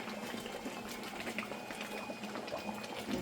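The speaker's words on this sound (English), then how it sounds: "you always want to come in here and give it a good stir" A pot of chicken chickpea curry with garam masala bubbles and simmers on the stove, a steady wet burble with faint scraping as it is stirred, close and fairly quiet, with no talking.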